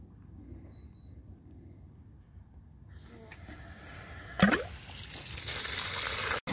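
Water is flushed out through a sprinkler riser pipe fitted with an elbow. After a quiet start, a gurgling hiss builds, a brief splashing burst follows, and then a louder steady gush of water runs to the end.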